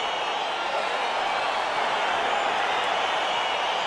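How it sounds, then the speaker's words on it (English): A UFC arena crowd roars as the fight gets underway, a dense, steady wash of noise that holds at an even loudness throughout without distinct claps or shouts standing out. "crowd getting excited as this fight gets underway"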